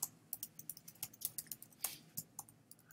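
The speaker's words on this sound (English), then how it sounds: "I'm typing it." Rapid, irregular keystrokes on a computer keyboard while writing JavaScript code, quiet and close, with crisp clicks and no talking.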